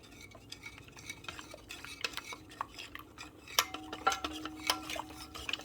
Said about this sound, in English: And so you just stir that all in.